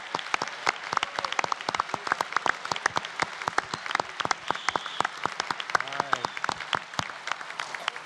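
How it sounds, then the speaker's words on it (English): Audience applause at a national middle school science bowl final for the second place team, a steady patter of many hands clapping throughout, with a voice speaking briefly over it. "Let's also have a round of applause for Fort Settlement"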